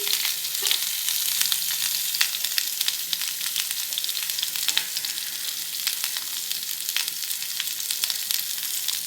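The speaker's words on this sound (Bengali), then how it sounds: "আলু টমেটো এগুলো ভেজে নিচ্ছি" Potatoes and tomatoes fry in a pan on a home stove, giving a continuous close sizzle dotted with frequent sharp pops and crackles, with no talking over it.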